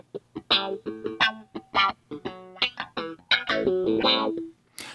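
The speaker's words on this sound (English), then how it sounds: "We have a guitar that sounds like this." Distorted electric guitar plays a rhythmic riff of chords and short single-note bursts at 85 BPM, loud and upfront with brief gaps between phrases.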